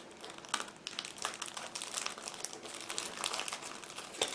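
Crinkly plastic bag being opened around a boxed 1/24 scale Aoshima Subaru BRZ model car body, a close, continuous rustling and crumpling with sharper crackles scattered throughout.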